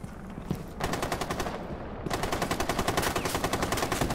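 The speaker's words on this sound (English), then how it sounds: "Let's all fire our guns and intimidate." Rapid automatic gunfire from Rainbow Six, with a short burst followed by long, continuous loud rattling volleys of fire.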